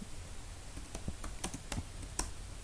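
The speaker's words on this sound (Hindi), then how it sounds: "अगर मैं यहाँ पे आर्प कमांड टाइप करता हूँ" Command being typed on a computer keyboard: a quick, uneven run of faint, close key clicks with no talking.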